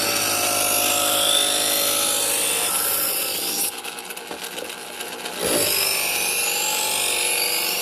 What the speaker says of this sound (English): And plug in my little can opener.